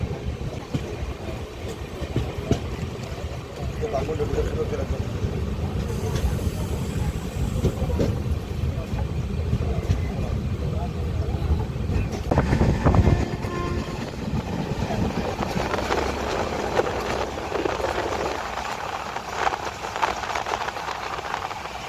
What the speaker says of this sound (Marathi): सुंदर ह्या निसर्गातून रेल्वेने ट्रेनने प्रवास करायला भेटतो आहे मला.